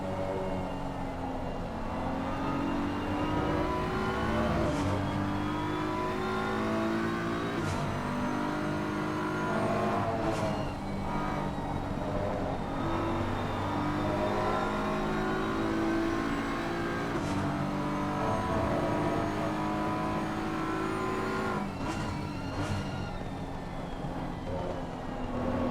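Race cars compete at Spa, their engines revving and shifting through gears in a loud, continuous drone, with rising and falling pitch as cars accelerate and pass, no voices heard.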